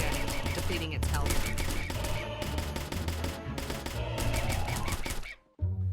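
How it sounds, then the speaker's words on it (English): Rapid game gunfire as shots hit a yokai in the augmented-reality mobile game Yokai Catcher, a dense run of sharp clicky bursts in quick succession, briefly cut off near the end, over background game music. "Once fully reeled, the player can tap the yokai to shoot at it, depleting its health."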